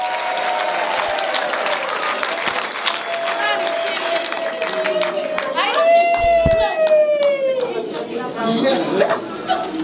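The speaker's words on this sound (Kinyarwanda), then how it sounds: "Gakomera Imana amashyi." Congregation clapping loudly at a church service, sustained applause mixed with cheering and chatter, while a voice and sliding tonal sounds cut through the middle.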